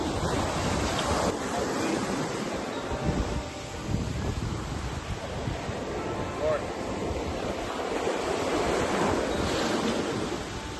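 Ocean surf rolling onto a beach in Miami, a steady broadband wash of breaking waves with wind buffeting the microphone throughout, continuous and fairly loud with no clear pauses.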